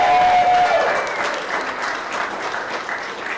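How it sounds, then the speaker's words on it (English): A crowd at a conference evening reception applauding loudly, the clapping strongest at the start and easing into a steady, dense patter. "So another round of applause."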